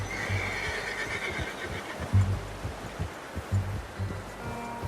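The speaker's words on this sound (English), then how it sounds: "How's that new horse?" A horse whinnies and snorts in the game Red Dead Redemption 2, with soft hoof thuds and thumps beneath, heard close and moderately loud.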